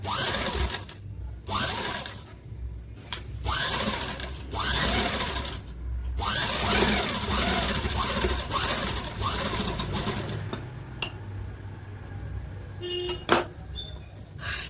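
A sewing machine stitches a princess cut blouse in short repeated bursts of rapid mechanical chatter with brief pauses between runs, while someone talks quietly in the background.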